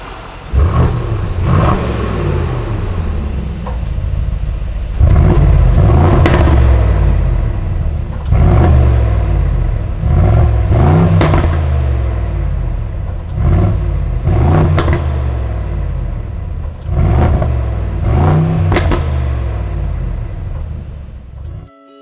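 Hot, warmed-up engine of a brand-new Mercedes-Benz Brabus GLS 800 revved hard about eight times in repeated bursts, each rising roar falling back to a deep idle rumble, loud and close with no talking.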